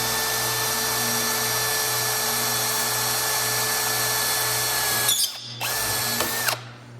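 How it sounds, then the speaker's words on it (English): A power drill bores a hole in a steel turn signal bracket built from 2-inch tube for a Scrambler motorcycle, a steady close whine that runs for about five seconds, cuts out briefly, then spins again before stopping. "See if I can drill a straight hole."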